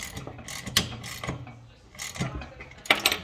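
Bolts on a rack assembly are snugged down with a ratchet, giving short bursts of clicking and metal clatter with pauses between them, close and fairly loud.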